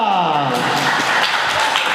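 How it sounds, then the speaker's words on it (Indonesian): An audience at a campus talk show in Padang claps for Pak Roni Surya Putra, a steady broadband wash of hands lasting about two seconds, with a voice briefly over it at the start. "Tepuk tangan dong untuk Pak Roni Surya Putra."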